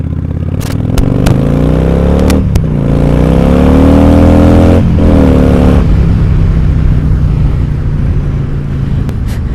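Motorcycles ride off together on a group ride in Tasmania, engines revving loudly and rising in pitch as they pull away, with a few sharp clicks early on and a steady rumble lingering after.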